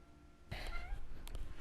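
A cat meows a few times close by, with short wavering calls starting partway through after a quiet room-tone opening.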